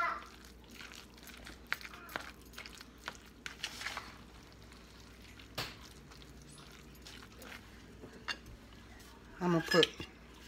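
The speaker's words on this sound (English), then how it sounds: "Now I'm gonna mix it with a fork" A fork mixing Maryland-style crab cake mixture in a bowl, giving faint scattered clicks and scrapes against the dish, with a louder cluster of clinks near the end.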